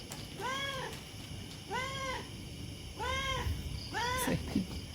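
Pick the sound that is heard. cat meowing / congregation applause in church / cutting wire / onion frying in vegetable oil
cat meowing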